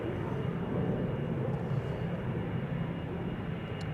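A KLM airliner departing Amsterdam Schiphol Airport gives off a steady, fairly faint engine roar with a low rumble, heard from a distance and without voices.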